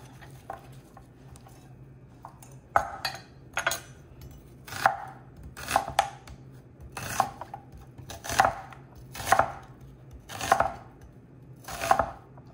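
A knife slices through the remaining half of an onion on a cutting board, about ten crisp, evenly spaced chops roughly one per second, close and clear over a faint background hum.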